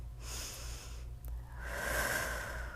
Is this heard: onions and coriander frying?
no